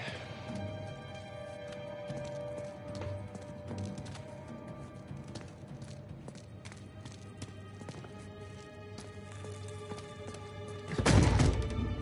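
Steady horse hoofbeats clopping along at a walk over a bed of game music and ambience in the video game Uncharted 4: A Thief's End Remastered, with a louder burst of noise near the end.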